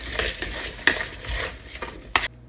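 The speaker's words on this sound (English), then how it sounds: "Then just stir them up to make sure everything is really well coated" Carrot fries stirred in a bowl to coat them, with a spoon clinking and scraping against the bowl in irregular close knocks and rustles.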